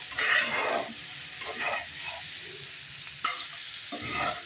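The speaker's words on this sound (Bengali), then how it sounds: "নেড়ে চেড়ে দিচ্ছি, গোলমরিচটা মিশিয়ে নিচ্ছি সব সবজির মধ্যে যাতে করে গোলমরিচটা মিশে যায়।" Vegetables with black pepper stirred in a frying pan for an Ekadashi potato fry over lowered gas heat, with steady sizzling and scraping strokes of a spatula that come in a few bursts, close and moderately loud, with no voices.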